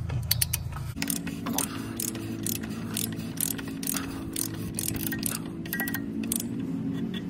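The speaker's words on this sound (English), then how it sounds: "we're gonna grab our torque wrench." A torque wrench ratchets on a Jeep Wrangler oil filter during an oil change, giving repeated sharp clicking strokes over a low steady hum, close and moderately loud with no talking.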